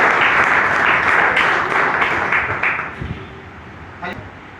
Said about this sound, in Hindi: कंपनी के लिए एक बार जोरदार तालियां हो जाए, जोरदार